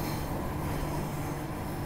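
Train on the Armadale line crossing over points toward a station platform, a steady low rumble of rolling wheels on rail with a faint hum, continuous and moderately distant, no voices.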